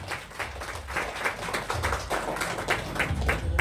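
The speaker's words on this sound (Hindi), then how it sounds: "ताली होनी चाहिए सबके लिए।" Audience clapping after a host's thanks at an incentive event, dense steady patter of many hands throughout, moderately loud with a low rumble beneath.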